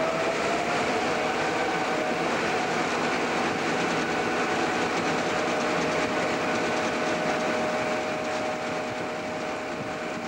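An Algoma Central Railway train accelerating away from a bridge on a climb, its steady rumbling roll and faint rail clatter continuous and fairly loud, with a thin whine running beneath.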